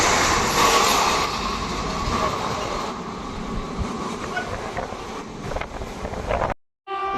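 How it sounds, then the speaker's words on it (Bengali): A Rajdhani Express rushes through a station at high speed on a dusty day. A loud, steady roar of wheels and carriages rumbles with wind buffeting, then cuts off abruptly near the end. No clear horn stands out. "লাইট জ্বালিয়ে হংকিং দিয়ে বেরিয়ে যাচ্ছে"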